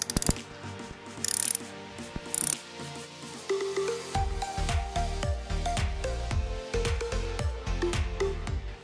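A ratchet clicks in quick bursts while loosening valve cover bolts on a Honda CBR 954RR motorcycle, followed by rattling metallic clinks of bolts and tools, close and clear.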